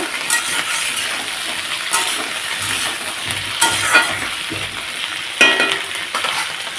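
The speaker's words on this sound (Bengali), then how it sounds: "খুব ভালোভাবে আমি ভেন্ডিগুলোকে সুন্দর করে ভেজে নেব" Okra frying in a pan over a gas flame gives a steady, close hiss and sizzle, with stirring scrapes and a few sharp clinks of the utensil against the pan.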